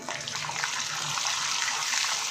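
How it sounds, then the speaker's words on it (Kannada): Urad dal and cumin frying in oil, a steady, close hiss of sizzling that holds evenly throughout with no talking. "ಈಗ ಇದೆಲ್ಲ ಸ್ವಲ್ಪ ಎಣ್ಣೆಯಲ್ಲಿ ಫ್ರೈ ಆಗಲಿ"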